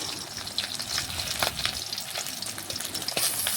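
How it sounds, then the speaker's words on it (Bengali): Pieces of katla fish fry in hot oil in a pan with a steady, close crackling sizzle and scattered sharp pops and spatters throughout. "লাল লাল করে দুপাশেই কিন্তু মাছগুলো ভেজে নিতে হবে"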